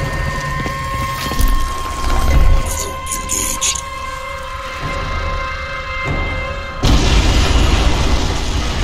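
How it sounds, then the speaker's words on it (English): A large explosion in the PC shooter Crysis 2 erupts as a deep, sustained boom with rumbling low end over a steady hum, then surges louder near the end, with no talk. "Warning. Explosion imminent."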